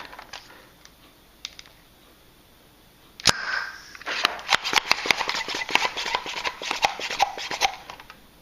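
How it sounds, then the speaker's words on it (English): An Air Zone Panther foam blaster from Buzz Bee fires with a sharp crack, then its overpressure release valve hisses and sputters in a burst of rapid clicking, close and fairly loud. "You hear the overpressure release valve kicking in."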